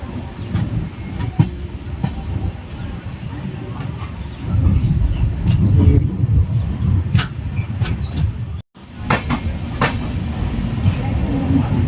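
Cholan Express passenger train running on rails, a steady loud low rumble of wheels and carriage noise with faint clicks, briefly cut near the end.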